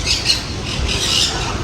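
A macaw close by lets out a few harsh, rasping squawks in quick succession, loud and clear, with no talking over them.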